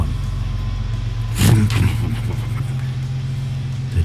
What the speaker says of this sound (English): The Jeep comes to life.